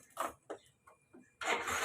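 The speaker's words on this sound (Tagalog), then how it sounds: "Ini-start ko na nga yung motor" A delivery rider's motorcycle engine cranks in a few short bursts, then catches and runs steadily, close and fairly loud with no talk.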